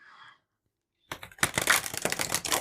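Oracle cards riffle shuffled by hand, preceded by a brief soft rustle and a second of silence, then a loud, close burst of rapid crisp flutters and papery clicks.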